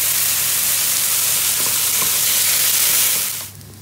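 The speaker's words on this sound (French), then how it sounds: "Mes petits champignons, pour prolonger la cuisson sans rajouter de matière grasse, je vais mettre de l'eau" Mushrooms in a pan hiss and sizzle loudly and steadily after water is poured in, the frying noise filling the space before dropping off abruptly at the end.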